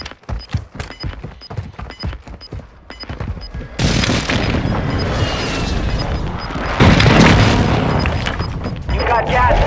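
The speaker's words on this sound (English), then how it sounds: "Friendly precision airstrike inbound." Precision airstrike explosions in Call of Duty: Modern Warfare II, a burst of deep booming blasts and rolling rumble following sparse clicking gunfire, loud and sustained with voices underneath.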